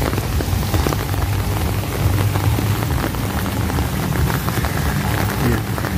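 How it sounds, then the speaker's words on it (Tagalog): Heavy rain pours steadily onto surfaces at an outdoor playground at Quezon City Memorial Circle, a dense, even hiss with no voices. "maulan-ulan ang panahon, malakas, biglang lumakas"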